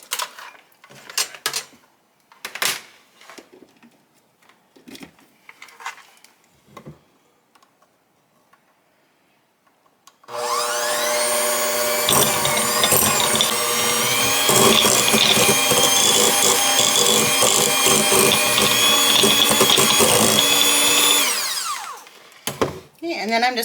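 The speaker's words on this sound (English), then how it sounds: "And I'm going to take my mixer to that and just mix that up." Following some scattered knocks and handling sounds, an electric hand mixer whirs up loudly in a mixing bowl of crème brûlée donut filling. It runs with a steady, close whine for about twelve seconds and then cuts off.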